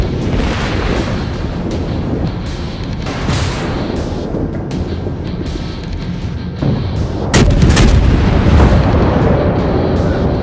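Naval gunfire from warships in World of Warships, heavy booming salvos rolling together in a loud, continuous barrage, with an especially sharp, strong burst of blasts partway through.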